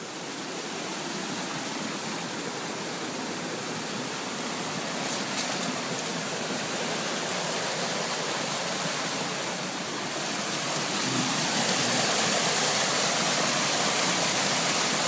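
Small waterfall spilling from an old mill into a brook in winter, a steady broadband rush of falling water that holds constant and grows slightly louder toward the end, with no voices.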